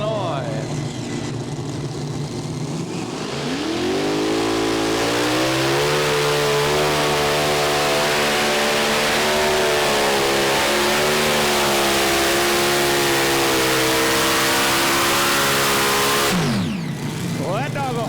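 A super modified pulling tractor's heavy engine roars up to a sustained high-revving drone for many seconds, loud and close, then cuts off sharply near the end.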